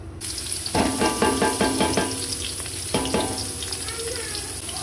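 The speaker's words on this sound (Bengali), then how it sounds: "আমি এই রেসিপিটা বসিয়ে দিয়েছি, এটাকে আমি এভাবে কষিয়ে নেব।" Spices sizzle in hot oil for a fish curry, a steady close frying hiss with clusters of quick scraping stirs and clatter near the start and again around three seconds.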